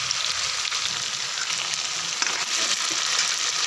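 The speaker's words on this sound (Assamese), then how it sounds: "এইখিনি এতিয়া অলপ মই ভাজি ল'ম" Onions and potatoes fry for a home-style duck curry, giving a loud, continuous hiss and sizzle of hot oil with occasional stirring scrapes, close and without speech.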